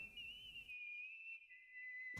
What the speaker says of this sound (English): He places 2 fingers to his lips and blows a really shrill whistle.